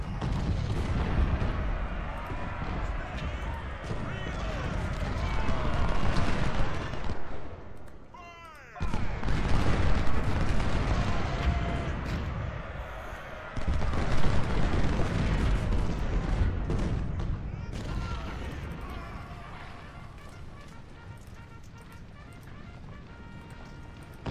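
Massed artillery batteries and musket fire at Malvern Hill in Ultimate General: Civil War, a continuous rolling roar of booms and volleys that breaks off abruptly once and then resumes before fading.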